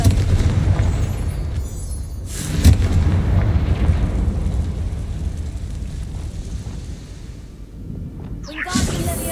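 A Confringo fire spell in Hogwarts Legacy bursts with a boom and crackle near the start, followed by a lingering rumbling whoosh that fades, then a sharper whooshing flare near the end.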